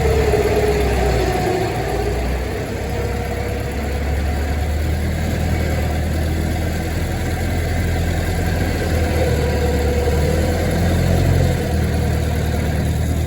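A 107-year-old car's engine runs steadily at idle, a low continuous rumble with a slight swell in revs near the end, close by and without talk.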